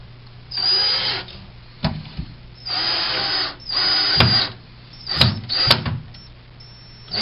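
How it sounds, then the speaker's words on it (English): A power drill drives a screw into a closet tower bracket against a wall, whirring in several short bursts with pauses and clicks between, close and clear. "we'll put the middle screw in the tower bracket here as well."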